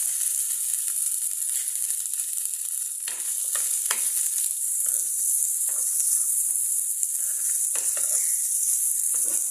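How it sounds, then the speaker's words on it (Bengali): Chopped onion, ginger and garlic sizzle and hiss steadily in a hot pan for fish bharta, with occasional scrapes and clicks of stirring, close and loud throughout. "পেঁয়াজ, আদা, রসুন ভেজে নেব।"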